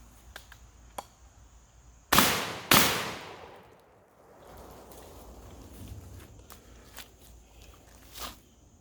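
A Charles Daly Model 601 20 gauge semi-automatic shotgun fires Fiocchi shells, two sharp, loud blasts about half a second apart with a short echoing tail, then quiet outdoor ambience.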